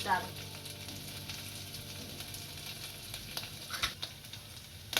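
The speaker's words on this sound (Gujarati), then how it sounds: "આદુ મરચા અને લસણ સારી રીતના સડી ગયા છે" Ginger, green chilies and garlic frying in oil for manchow soup, a soft steady sizzle with faint crackles and an occasional stir, close and quiet throughout.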